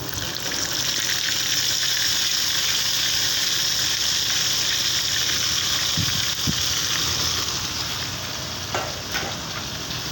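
Ginger-garlic paste frying in a hot pan with bay leaf, cardamom, black peppercorns and cinnamon: a steady, close, bright sizzle that runs unbroken, with a few soft clicks of stirring.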